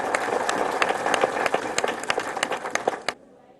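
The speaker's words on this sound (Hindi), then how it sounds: "इसलिए एक बार इन लोगों के लिए जोरदार तालियां बजनी" Audience applause at an honouring program in India, dense clapping with scattered louder claps, fairly close and steady for about three seconds before cutting off abruptly.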